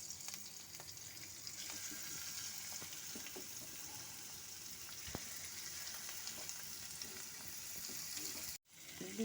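Grated carrot sizzles in a hot pan over a spice tempering, a steady soft frying hiss with faint stirring scrapes and a brief pause near the end.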